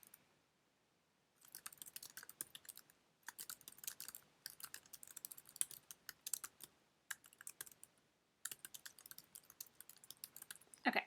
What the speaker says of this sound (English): I just typed in a bunch of text